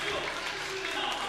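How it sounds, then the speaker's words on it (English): An audience claps at a StarCraft 2 KeSPA Cup esports match, steady crowd applause throughout a short stretch with a caster talking over it. "I don't know why they're clapping down there"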